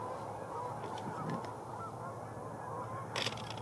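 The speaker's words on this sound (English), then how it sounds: "There's the goose." Honks from a wild goose on a river during a waterfowl hunt, with a short burst near the end over a steady background of rushing water or wind noise.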